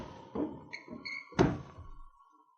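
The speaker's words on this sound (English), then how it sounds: "Shut the door." A wooden woodshed door thumps shut in a few dull knocks, followed by a brief metallic rattle as it is locked, close and fairly quiet.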